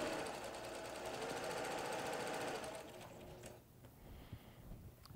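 A sewing machine stitches quilt block fabric for a Goose Tracks log cabin block, a rapid steady mechanical whir and chatter that stops about three seconds in, leaving quieter handling sounds.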